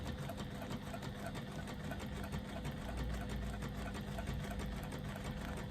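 A sewing machine top-stitches with cream thread, its motor whirring in a fast, even, continuous chatter. It is close and steady throughout, with no voices.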